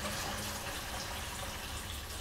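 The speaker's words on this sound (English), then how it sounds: "a bit of warm water there" Warm water runs steadily from a tap in a pottery workshop, a constant close hiss and splash with no voices.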